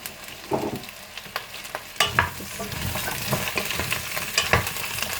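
Pumpkin pieces sizzle in olive oil in a large pot, a steady crackling fry broken by loud scraping stirs and clatters at irregular intervals.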